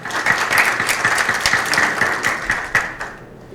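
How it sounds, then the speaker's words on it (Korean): Loud, close applause from a forum audience in a conference hall, a fast steady rattle of many hands clapping that tapers off toward the end. "환영의 박수 부탁드립니다"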